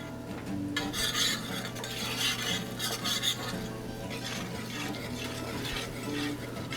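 Crab fat and red pepper flakes stirred in a pan, soft scraping of a utensil against metal under a light sizzle, close and without talk.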